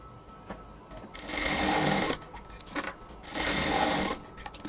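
Sewing machine stitching the double neckline of a blouse, two quiet bursts of rapid whirring stitches, each about a second long, with pauses between them.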